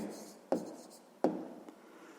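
A pen or pencil writes by hand on paper during a sixth-grade percentage math exercise, with two quick, sharp strokes followed by lighter scratching, close and fairly quiet, no voice.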